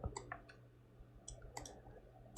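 Computer mouse clicks, about eight sharp, quiet clicks in irregular rhythm over a faint background hum.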